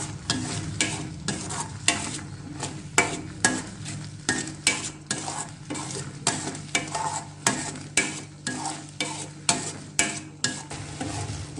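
Salt and chili powder being stirred into a sizzling frying gravy for crispy corn, with a spoon scraping the pan in a steady rhythm of close, repeated strokes over a continuous hiss of frying.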